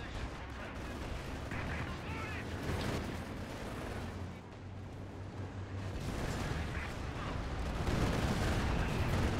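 Distant artillery booms and scattered gunfire rumble through a Company of Heroes battle on the Steppes map, a continuous low roar of combat with faint voices underneath.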